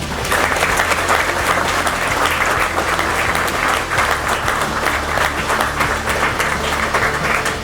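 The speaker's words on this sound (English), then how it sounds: "Please join me in a round of applause for this phenomenal professional." An audience at an Army boot camp graduation at Fort Leonard Wood, Missouri, applauds with sustained, dense clapping, while a low hum runs steadily beneath the crowd.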